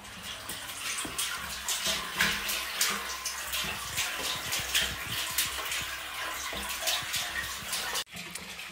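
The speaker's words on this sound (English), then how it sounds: "So all the water that's flowing through the system is now coming out this overflow line and flowing into this floor drain" Water from the overflow line of a ram pump buffer tank on an off-grid, gravity-fed homestead system pours steadily into a floor drain, a continuous close splashing gush with uneven surges, briefly dipping near the end.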